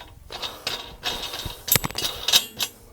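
Tightening a big nut with a lock washer while installing an auger on a tractor, close metallic ratcheting clicks and clanks in uneven bursts.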